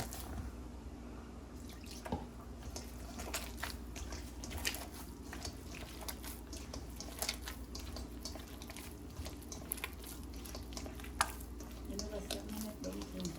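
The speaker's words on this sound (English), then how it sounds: "Put more water in it." Water drips and splashes near a sink, with soft squishing as dumpling dough is worked, under low background talk.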